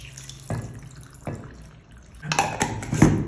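Water poured into a jar of cucumber pickles in a home kitchen, in short splashing bursts near the start and a longer, fuller pour toward the end, close and fairly quiet with no talking.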